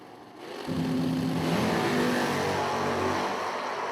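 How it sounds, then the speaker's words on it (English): Drag racing cars launching at a dragstrip, one of them a fastback Mustang. The engines roar up sharply from a low idle into a loud, sustained rev, with no talking. "Brandon Lowe leaving second in the fastback Mustang."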